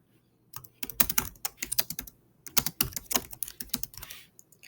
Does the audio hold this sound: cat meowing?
no